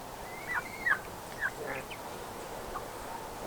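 Three baby turkeys peeping outdoors near a garden, a few short high chirps close by in the first second and a half, then fainter scattered calls over a quiet background.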